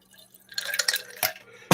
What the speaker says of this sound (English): Drop the ice cubes in.